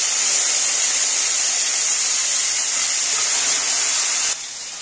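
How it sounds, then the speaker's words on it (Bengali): Salted, turmeric-rubbed fish heads sizzle in hot oil for a Bengali moong dal dish, a steady loud hissing fry that continues evenly before dropping off abruptly at the end. "দেখো তেলটা গরম হয়ে গেছে, মাথাগুলো এখন ভেজে নেব।"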